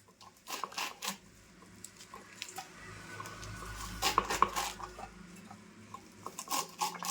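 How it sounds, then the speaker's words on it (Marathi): Fresh fenugreek leaves held in a fist are coarsely chopped with a knife on a board, giving irregular crisp cutting taps and rustles at close range, fairly faint, with light kitchen handling noise between strokes. "ती जाडी जाडी अशी कापून घेते अशी मोठी मोठी कापून घेणार आहे"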